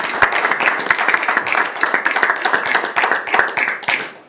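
Audience at a school district board meeting claps for a few seconds, distinct sharp hand claps in an irregular patter that fade out at the end, with little talk.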